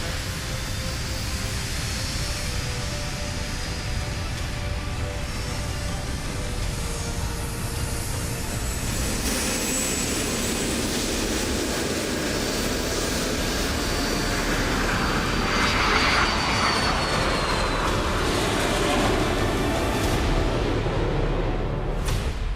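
A military aircraft takes off from a runway with a loud, sustained engine roar that builds and thickens toward the end, close and with no voices.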